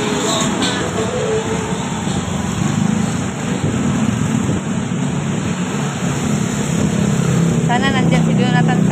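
Rain pours down during a typhoon as a loud, steady roar that fills the whole stretch, with no distinct thunderclap standing out, and brief voices surface near the end.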